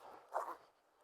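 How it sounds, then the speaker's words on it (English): A zipper on a dog prong collar is pulled once in a quick, close, soft burst, briefly louder in the middle before trailing off into quiet. "Zips through here. Okay, just like that, zips on and off."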